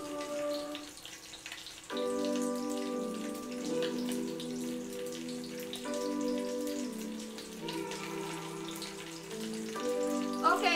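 Dried round scad fish sizzles in a frying pan with a steady crackle, mixed with a sustained tonal hum that changes pitch in steps, and no one speaking.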